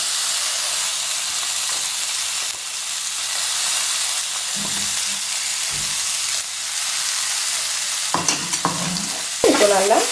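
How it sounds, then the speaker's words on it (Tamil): Ground dal filling is sautéed in a pan with mustard seeds, urad dal and asafoetida for kolukattai. A steady loud sizzle and hiss runs throughout, broken by scraping stirs, with no talk. "இப்போ நல்லா வதக்கிக்கோங்க ஒரு வதக்கு."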